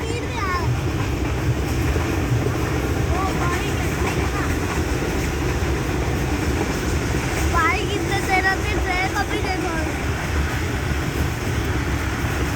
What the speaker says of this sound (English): Train is getting halt, is being stopped now.